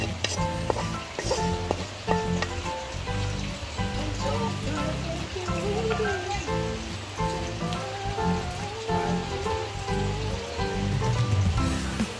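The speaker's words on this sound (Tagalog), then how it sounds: "Prito nga tilapia." Tilapia crackles and sizzles steadily in hot oil, a dense spattering hiss that continues throughout with faint background sounds.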